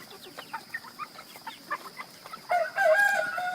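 Month-old chicks cluck softly in short, scattered calls, then a louder, sustained crow-like squawk rises near the end, close by with no talking.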